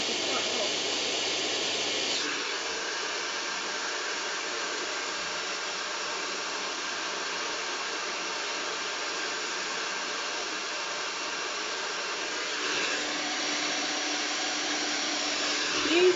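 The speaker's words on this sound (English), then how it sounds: "Using a hairdryer" A hair dryer blows in a steady, loud broadband whoosh, shifting pitch slightly at the start and again near the end.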